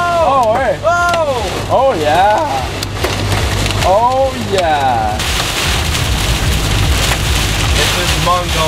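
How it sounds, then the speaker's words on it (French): Hail pelts down during a tornado-producing storm in northeast Texas, a dense loud clatter that swells to a steady roar as excited voices talk and shout over it. "Ouais, y'a de la grêle qui tombe, man."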